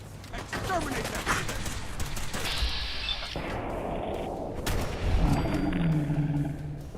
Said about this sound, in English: The ones that are using the pipe pistols are actually kind of funny.